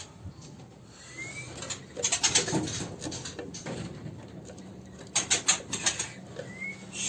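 Faint high-pitched chirps come in short clustered bursts from nestlings in a nest box, mixed with soft rustling and scratching close by.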